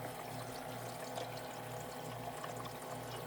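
A countertop ice maker filling with water from the bottom gives a faint, steady trickling and pouring wash under a low pump hum, continuous and fairly quiet.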